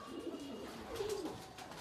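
Racing pigeons coo faintly at their loft after returning from a 156 km training flight, a couple of soft low rolling calls over quiet background hiss.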